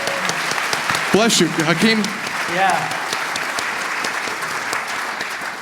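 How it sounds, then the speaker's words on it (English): Audience applause for two demonstrators at a live telepathy demonstration at a desert conference, steady clapping throughout with a few voices speaking briefly over it. "How about a round of applause for these 2 miracle workers?"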